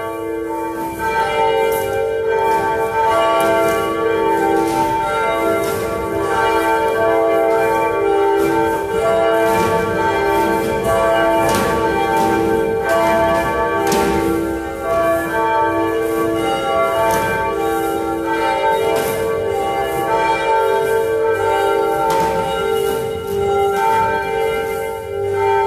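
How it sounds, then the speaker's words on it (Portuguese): Church bells ring continuously in a dense, overlapping peal, loud and sustained throughout with no voices. "ouvindo o som dos nossos sinos"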